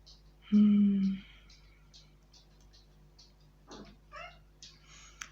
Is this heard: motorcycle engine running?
no